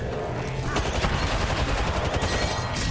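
Video game gunfire crackles in dense, overlapping bursts of rapid shots, loud and continuous, like a firefight with several weapons going at once.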